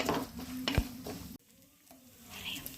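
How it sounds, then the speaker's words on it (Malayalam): A spatula scrapes and stirs grated coconut roasting dry in a pan over a soft sizzle, with a sharp clink partway through. "തേങ്ങ നമുക്ക് വറുത്തെടുക്കാം."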